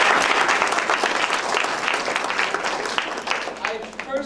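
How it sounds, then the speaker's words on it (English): Audience applause at a speech contest, a dense, steady wash of many hands clapping that fills the whole stretch at close, loud level without pause. "Let's give her a round of applause."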